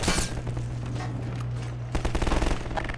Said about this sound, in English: Let me just fire this bad boy down at him